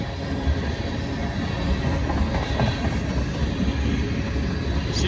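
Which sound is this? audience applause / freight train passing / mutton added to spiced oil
freight train passing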